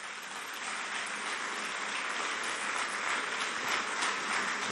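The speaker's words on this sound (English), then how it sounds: "another round of applause for the EFCC chairman" Sustained applause from an audience at a national summit on cybercrime, following a speech by the EFCC chairman; a dense, steady wash of clapping that holds at an even level and swells slightly toward the end, with no voices heard.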